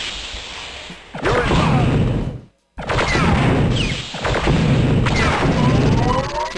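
Assault cannon firing in Star Wars: Dark Forces (PC, 1995): loud, close bursts crash out in three long roaring volleys with sweeping, whooshing tails, broken by a brief silent gap.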